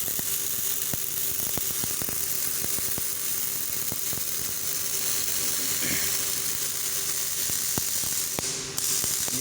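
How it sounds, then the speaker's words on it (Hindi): An automatic factory robot welds parts from both sides with a steady sizzling hiss, broken by sharp ticks and clicks and a constant mechanical hum. "दोनों साइडों से ये ऑटो वेल्डिंग हो रही है"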